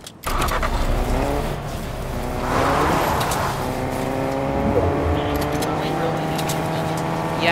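A car drives in a video game arena, its engine tone rising and shifting steadily over several seconds after a brief start, loud and continuous, with a voice talking over it.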